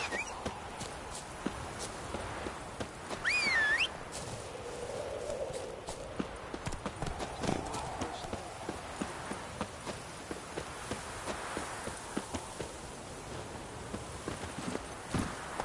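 Roach the horse trots through a video game world, a steady close clip-clop of hooves running throughout with a brief whistle-like tone early on and no voices.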